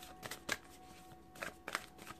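Sacred Traveler oracle cards shuffled by hand: quick soft riffling bursts come in two pairs, close and quiet, with brief papery flutters separated by a short pause.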